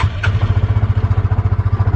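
A Cub Cadet Challenger MX 750 EPS utility vehicle's engine catches after a brief crank and settles into a loud, steady, rapid putter close by, with no voices.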